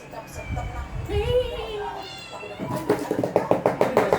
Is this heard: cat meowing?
yes